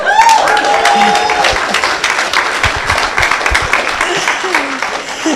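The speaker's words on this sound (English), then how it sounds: "The reason we're clapping in the front row is that Mr. Dunbar traveled for 40 hours to" Front-row audience clapping at a climate finance conference session, a dense, loud burst of applause with cheering voices and talk layered on top, fading slightly toward the end.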